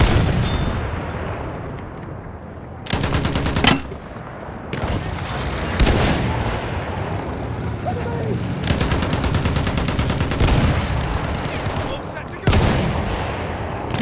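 Battlefield 1 gameplay: heavy bursts of machine gun fire rattle in rapid sustained volleys, loud and close, amid explosions and shouting soldiers' voices.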